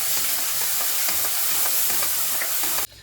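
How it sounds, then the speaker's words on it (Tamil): Masala paste for a baby potato gravy sizzling and frying steadily in a pan, a continuous close hiss with faint stirring scrapes, cutting off abruptly near the end. "இப்போ இதை நல்லா வதக்கிக்குவோம்"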